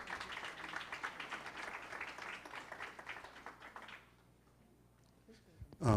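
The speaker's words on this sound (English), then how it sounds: "Let's give them a good round of applause." Audience at an Election '24 political forum claps steadily for about four seconds, moderately distant, then the applause dies away into quiet room noise.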